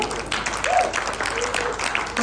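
A church congregation at a worship service in Cianjur breaks into scattered clapping, moderately loud and mixed with murmuring voices for a couple of seconds.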